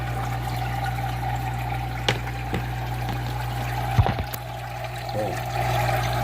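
Water from a pump moving 660 gallons per hour runs down through a tower into an aquarium sump, making a steady trickling pour over a constant hum, with a few light knocks and splashes.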